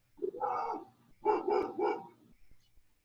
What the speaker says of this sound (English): dog is barking. Can you hear it?